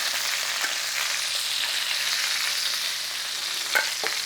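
Chicken pieces frying in a hot pan, browning on the bottom, give a steady, loud, even sizzle that hisses continuously, with a faint clink or stir near the end and no voices.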